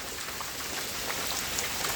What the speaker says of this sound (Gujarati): અત્યારે એક રસ થઈ અને ધીરા છાંટે વરસાદ શરૂ છે